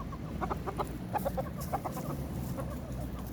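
Several chickens, including American Osaka breed, cluck and chatter nearby in short irregular bursts over a steady low background hum.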